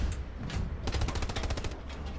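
Machine gun fire in the World War II shooter Hell Let Loose, heard as a rapid, evenly spaced burst of shots over a steady low rumble, fairly distant and muffled.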